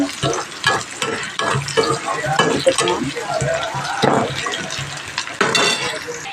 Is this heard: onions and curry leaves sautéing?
yes